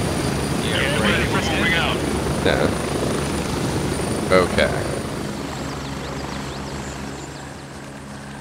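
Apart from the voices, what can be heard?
helicopter in the video game Gray Zone Warfare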